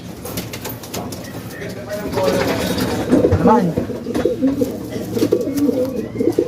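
Pigeons coo softly and repeatedly while being hand-fed in a loft, the low throaty calls close by amid rustling and handling sounds, with a person talking quietly in the background.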